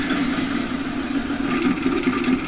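A 630 narrow-front gas tractor engine idles in a video game with a steady, even low rumble and a slight clattering pulse, close and loud throughout.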